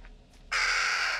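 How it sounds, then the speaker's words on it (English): A crow in the horror game Little Hope gives a single loud, harsh caw that cuts in abruptly after a quiet, faintly humming stretch, close and alone with no talking. "Oh wait, there is a crow."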